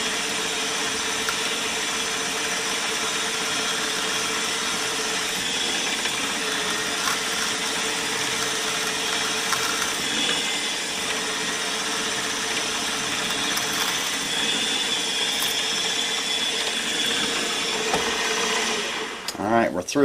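A tiny drill bit boring into a fillet knife workpiece, a steady close mechanical whine and hum that runs without a break, with a voice talking faintly beneath it.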